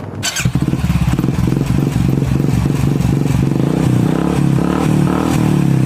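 A Royal Enfield Classic 350 motorcycle starts up and settles into a loud, close idle with a steady, deep thumping beat. The engine runs alone with no speech.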